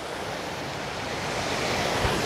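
Steady, loud, broadband roar of water rushing in a stream just upstream of a waterfall, continuous and close with no pauses or voices.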